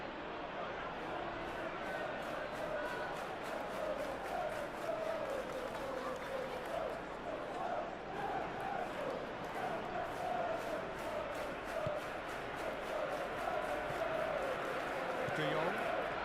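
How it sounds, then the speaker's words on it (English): A stadium crowd roars steadily throughout a simulated Champions League match between Newcastle United and Barcelona in the football video game PES 21, a broad continuous swell of cheering beneath a commentator's voice. "but it certainly got the crowd going"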